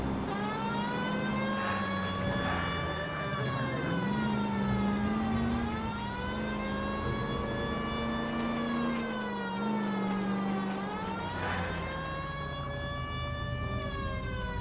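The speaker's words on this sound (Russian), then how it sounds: "Вас не учили, что нужно отъезжать, когда чувак на мигалке едет?" A police car siren wails in the video game L.A. Noire, a loud, continuous rising and falling tone that sweeps up and down steadily for the whole stretch, with no voices over it.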